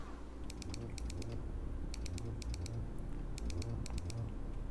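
Mechanical computer keyboard clacking in clusters of rapid keystrokes, bright crisp clicks over a dense, loud layer of rhythm game music.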